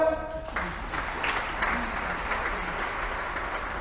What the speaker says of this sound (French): On a compris, on acclame le Seigneur.